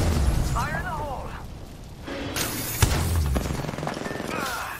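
A grenade blast in Apex Legends booms amid game gunfire and effects, a single punchy hit partway through, with someone talking rapidly over the fight.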